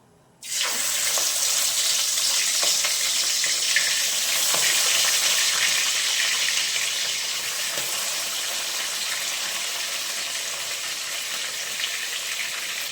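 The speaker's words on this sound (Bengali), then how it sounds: "মাছগুলো এবার ভেজে নেব।" Prawns frying in hot oil in a wok, sprinkled with salt and turmeric, make a steady, loud, continuous sizzle that starts abruptly and holds evenly throughout, with no voices.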